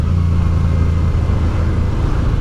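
Motorcycle riding along a mountain road at Col des Gets in Europe, a loud continuous low engine drone mixed with heavy wind rumble, steady and close throughout with no voices.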